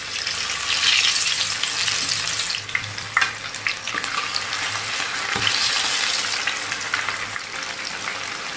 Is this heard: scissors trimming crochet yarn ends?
no